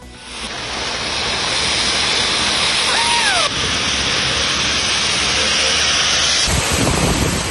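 Heavy rain with strong gusty wind during a storm in Chennai, a loud, steady broadband roar that keeps going throughout, with a sudden low rumble near the end.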